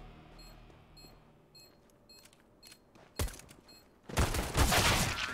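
Counter-Strike: Global Offensive gunfire on the Dust II map, with small beeps and clicks at first, then a sharp burst of shots and a louder sustained volley near the end.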